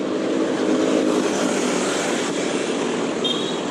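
Steady, loud engine roar of a motorcycle on the road, a continuous broadband rumble with no clear pass-by peak and no talking.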